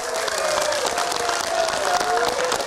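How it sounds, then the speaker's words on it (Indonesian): Supporters at a 2024 Samarinda regional election debate clap and cheer, sustained dense applause with crowd noise running loud and steady from start to finish. "tepuk tangan sekali lagi yang meriah untuk kita semuanya Bapak Ibu"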